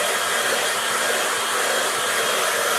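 A hair dryer blows steadily and close by, drying watercolour paint on paper, a constant airy whoosh with no voices.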